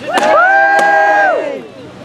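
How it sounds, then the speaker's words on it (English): A crowd at a medieval knights' tournament lets out a loud, unified cheer for Sir Matthew Delahaye. It lasts about a second and a half, then trails off. "And can I get a cheer for Sir Delahaye?"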